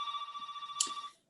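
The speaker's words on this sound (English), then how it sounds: "And the phone's ringing." A telephone rings with a pulsing electronic warble for about a second before cutting off, clear and fairly close in an otherwise quiet home.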